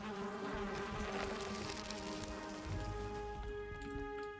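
Bees buzzing around a beehive in Valheim, a steady droning hum with layered tones over a soft game ambience, continuous and fairly faint.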